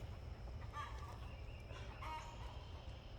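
A chicken clucks faintly in a few short bursts somewhere in a garden, with a steady low background rumble and no voices.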